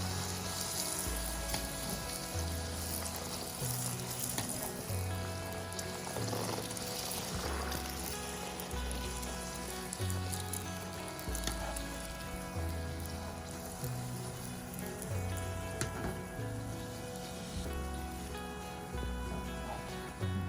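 Luchi, puffed flatbread, fry in hot oil with a steady, close sizzle and crackle that runs throughout, while a low rhythmic tone pulses faintly underneath.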